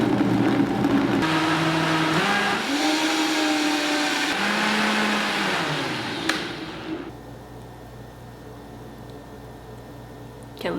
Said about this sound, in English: blend them up.